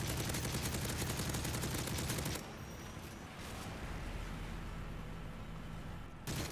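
Remington shotgun fire in the Modern Warfare 3 video game: a dense, rapid burst of gunshots with a busy battle din, then a quieter rumbling stretch and a final loud blast at the end.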